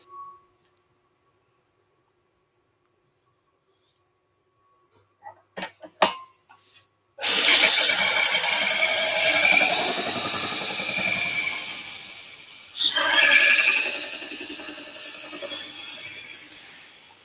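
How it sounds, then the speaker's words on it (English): A woodworking gouge being sharpened in a shed: a few sharp clicks, then a steady close rasping grind for about five seconds, a brief break, and the grinding resumes. "I'm just going to give this detailed part of the gouge a quick sharpen"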